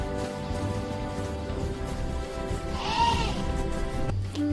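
A herd of goats is driven toward the forest to graze. A clear, wavering bleat rises over a steady background hum, and a shorter second call follows just before the end.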